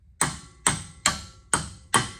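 A big hammer striking a thick steel punch against an axle on a Toyota Supra Turbo, five sharp metallic blows evenly spaced about half a second apart, each ringing briefly, close and loud with no talking.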